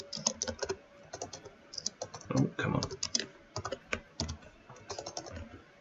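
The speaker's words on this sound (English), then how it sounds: "Sorry, I'm having troubles typing." Rapid clicking on a computer keyboard during an online tabletop role-playing game session, quick uneven bursts of keystrokes close to the microphone, with a voice muttering briefly partway through.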